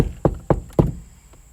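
Three firm, evenly spaced knocks land on a door, close and loud, fading into quiet afterward with no one speaking.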